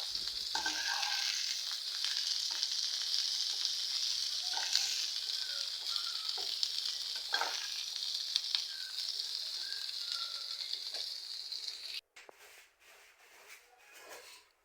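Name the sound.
frying in a little oil in a pan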